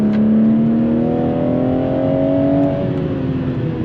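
A stock Toyota Supra pulls hard under acceleration, its engine note rising steadily in pitch for several seconds, loud and close, then easing off as the revs level out.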